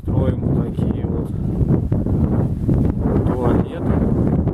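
Wind gusting across an outdoor campsite while tents are being set up, a steady loud rumble buffeting the microphone throughout, with a voice speaking over it.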